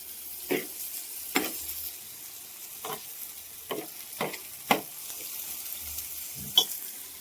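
Ingredients fry in oil for fenugreek leaf pachadi, a soft continuous sizzle broken by a series of sharp spoon scrapes and stirs at irregular intervals.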